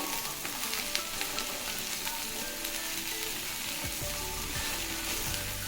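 Ridge gourd pieces sizzle steadily in a hot pan for a ridge gourd coconut chutney, with scraping stirs breaking through the constant frying hiss. Close and continuous, with no voices.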